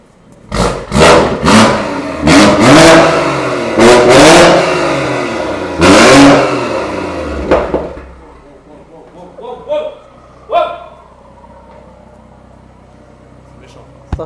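A BMW M140i tuned to 550 hp starts up and revs hard in several rising, falling bursts over about eight seconds, then settles into a quieter idle with a few light blips.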